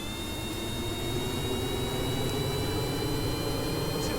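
A spaceplane fitted with 28 Spider engines and Panther jets runs at full throttle on the runway in Kerbal Space Program, a steady loud jet roar with a high whine that holds throughout.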